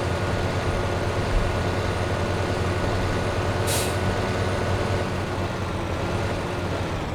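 A farm vehicle in Farming Simulator 2015 drives along with a steady, loud engine drone and rumble, plus a brief hiss partway through.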